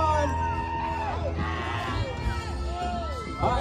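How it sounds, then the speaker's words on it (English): A crowd at an outdoor wing-eating contest whoops, yells and cheers in a lively, continuous roar, with individual shouts rising above the din throughout. "Cheer them on, ladies and gentlemen."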